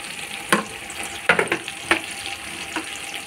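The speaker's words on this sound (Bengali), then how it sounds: "সব সবজিগুলো দিয়ে দিলাম ফের। জল পড়বে না, এরকম তেলে ভাজা হয়ে।" Mixed vegetables frying in hot oil for a homemade pickle, giving a steady background sizzle broken by several sharp spatters and stirring clatters.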